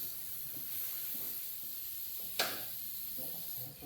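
Steady loud hiss of a noisy air compressor running in a workshop, with one brief sharp burst partway through and a constant high-pitched whine throughout.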